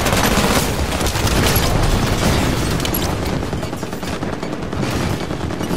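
Gunfire and heavy weapon blasts from a tank fill a Halo 5: Guardians multiplayer battle, rapid bursts layered into a dense, continuous barrage with no pauses.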